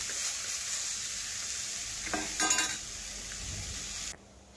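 Pointed gourd slices frying in a wok, stirred with a steady sizzle and a short burst of scraping and clinking near the middle before the sound drops away abruptly.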